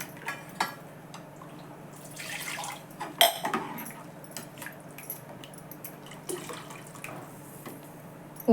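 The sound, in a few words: water being poured into dal amti while cooking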